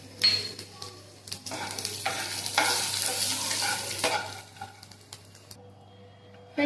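Garlic frying in a pan with chilies and cumin for a peanut chutney, a close, steady sizzle that swells and fades with stirring, then thins out toward the end.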